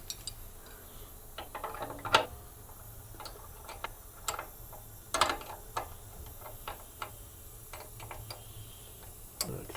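A 0.4 mm cutting tool is being removed from a Roland MDX-40 PCB milling machine, giving sparse, quiet metallic ticks and clicks at irregular intervals over a low steady hum.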